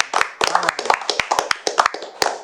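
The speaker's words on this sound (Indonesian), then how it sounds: "Tepuk tangan" Scattered hand claps from a small talk show audience, sharp and separate rather than a dense ovation, with a few voices in between.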